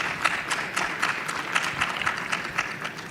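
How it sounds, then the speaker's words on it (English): Audience applause for conference panelists at a power electronics conference, a steady wash of many hands clapping at moderate level with no talk over it. "Hearty round of applause to our panelists."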